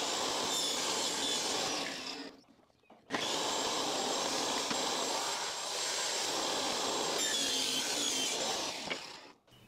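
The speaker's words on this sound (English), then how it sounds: "So I'm just gonna use this and just pretty much cut it right here." A power tool cuts a leftover piece for a homemade disc golf cart: a loud, steady, close whine that drops out briefly near the middle, then resumes and runs on before stopping.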